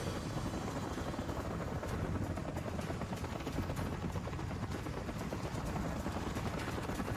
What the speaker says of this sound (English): Have you been in a chopper before?